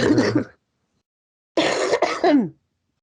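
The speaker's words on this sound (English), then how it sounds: "It's still just a weird cough that I can't get over." A short burst of throaty coughing, then a pause, followed by two more harsh coughs, close and fairly loud with no talking.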